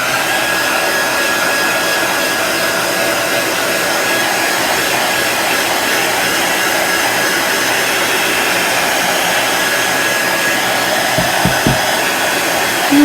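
A blow dryer dries fresh paint on a wooden farmstand sign in winter, giving a loud, constant close-up whoosh and whine that holds steady from start to finish.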